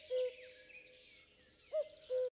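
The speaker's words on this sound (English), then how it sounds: "Have you ever heard a cuckoo bird before?" A cuckoo call sounds as clear, steady, pure tones, first one alone and then a closely spaced pair after a pause, faint and close over a quiet background.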